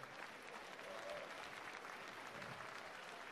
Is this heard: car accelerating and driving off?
no